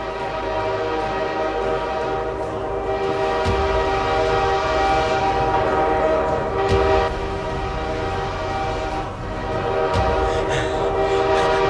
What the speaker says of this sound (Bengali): ট্রেন আসছে যে গো।